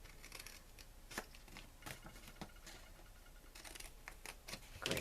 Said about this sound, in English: I cut the inside edge on the other side as well